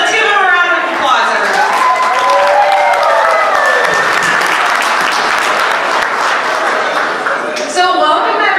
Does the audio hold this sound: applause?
yes